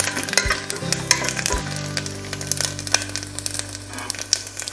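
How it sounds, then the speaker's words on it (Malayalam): Dried red chillies, a piece of cinnamon, cloves and a small cardamom frying and being stirred in a pan for duck mappas, with a steady sizzle, scraping stirs and small clinks, close and alone without speech. "നന്നായിട്ടൊന്ന് ഇളക്കാം."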